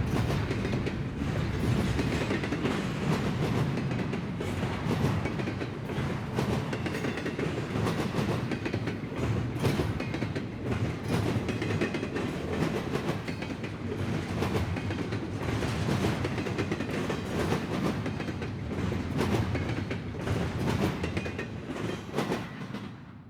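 A westbound CSX freight train rumbles steadily past in Muncie, Indiana for the whole stretch, wheels clattering in a continuous rhythm over the rails, loud and close.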